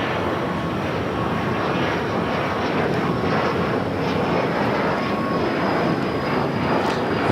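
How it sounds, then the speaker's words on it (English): A Turkish Airlines Boeing 787 Dreamliner arriving at LAX on the north side, its steady jet engine roar loud and continuous throughout with light wind noise. "That is that Turkish Dreamliner arriving there on the north side."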